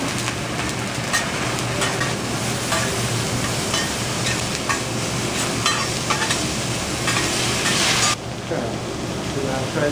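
Fried rice and vegetables fry and get stirred on a hot grill, a loud steady sizzle with scraping and clatter, close up and continuous, ending abruptly.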